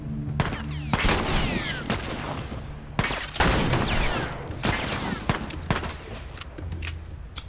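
Gunfire in The Last of Us, loud sharp shots fired in quick separate bursts over several seconds, with short gaps and ringing tails between them.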